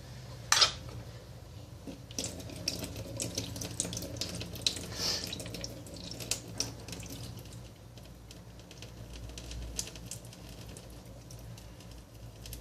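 Canned tropical fruit drains in a kitchen sink, water and syrup splashing against the basin in an uneven stream, with a sharp clatter near the start and a few light knocks of a can or dish along the way.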